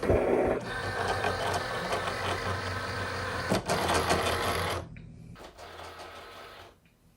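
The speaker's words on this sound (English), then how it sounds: "fit it snug right up to those rollers and then hit the load button" A Cricut Explore Air 2 cutting machine loads its cutting mat between the rollers, giving a steady close mechanical whir that turns quieter and fades out toward the end.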